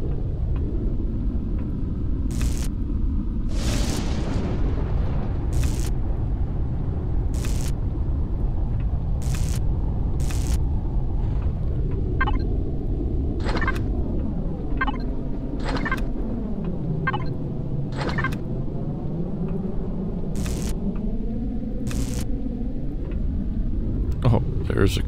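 A low, steady storm rumble from outside in the video game Empyrion continues throughout, with periodic sharp clicks and clanks over it and a voice talking in the foreground.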